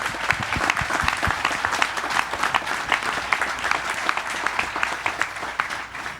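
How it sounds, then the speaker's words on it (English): A crowd claps steadily and densely, a sustained round of applause filling the room without pause. "One more round of applause for everybody."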